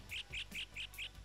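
Birds at a bird house give five quick, evenly spaced high chirps in a steady rhythm, moderately close over a low background hum.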